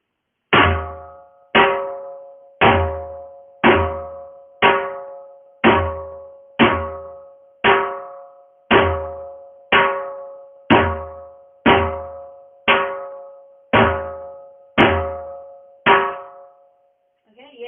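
Two slow cycles of the Lambhi Chaal rhythm on a dhol: sixteen evenly paced, resonant strikes with bright ringing decay, played alone and up close, ending with a short pause.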